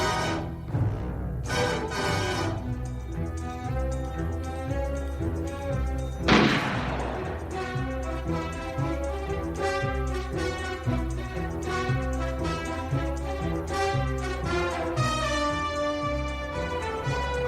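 A single sharp gunshot from the James Bond Moonraker gun barrel opening cracks out once over a sustained orchestral theme, which plays loudly and continuously throughout.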